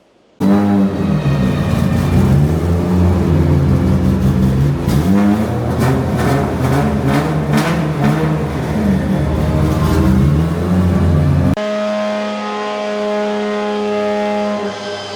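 A professional Formula Drift car engine runs on a dyno, giving a loud, sustained mechanical roar with rising and falling revs. It then drops abruptly to a steadier, lower idle-like drone.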